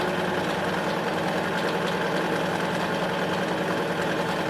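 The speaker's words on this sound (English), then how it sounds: "You're sewing around in a square." A sewing machine stitching around a square of fabric, giving a steady, fast, even mechanical whir that runs loud and close from start to finish with no talking.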